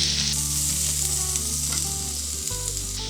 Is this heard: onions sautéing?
yes